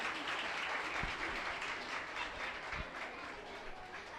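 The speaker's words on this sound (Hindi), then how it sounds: "जोरदार तालियां हो जाए इन बच्चों के लिए" Sustained applause from a school audience for young children's drama performance at a Grandparents' Day celebration, steady broadband clapping lasting several seconds at moderate distance, with no talk over it.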